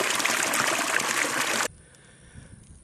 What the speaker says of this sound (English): And here's the flow of the water. You can hear it gurgling out.